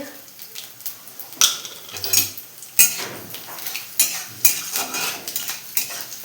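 Dried red chilies, bay leaf and whole cumin sizzle in hot oil in a karai, a steady crackling hiss broken by sharp clinks and scrapes of a metal spoon against the pan.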